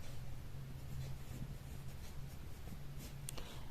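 Pen or pencil scratching across paper while Sanskrit verse is written by hand, a steady close scritching with faint strokes over a low hum and no talk.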